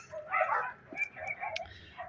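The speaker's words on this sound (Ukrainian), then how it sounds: "О, сусідські собаки." Neighbouring dogs bark in a yard beside evergreen garden hedges, a few short yaps and woofs heard at a moderate distance with light background ambience.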